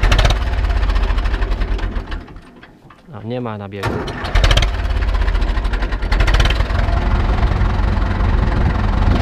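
An Ursus C-360 tractor engine cranks, catches and starts, settling into a loud rough idle with a brief dip in between; people talk nearby over the running engine.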